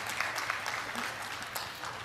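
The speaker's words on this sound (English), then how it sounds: "Let's give them another round of applause." Audience at a conference panel session claps steadily for two seconds, a dense wash of many hands at moderate distance with no voices.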